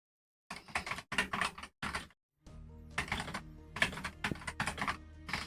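Quick bursts of typing on a computer keyboard during an online tabletop role-playing session: clustered key clicks, a short pause, then steadier clattering, close and fairly soft, with no talk.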